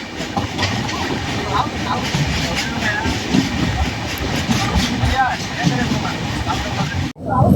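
The Vaigai Express, a daily Chennai–Madurai train, rolls along the rails with a steady rumbling clatter and rhythmic wheel clicks from inside the carriage, ending in a sharp jolt near the close.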